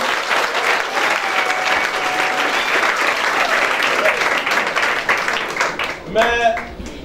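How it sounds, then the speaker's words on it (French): An audience at a French civil wedding ceremony breaks into sustained applause and some cheering, a dense steady clatter of clapping that tapers near the end. "Mesdames, messieurs, on acclame le nouveau."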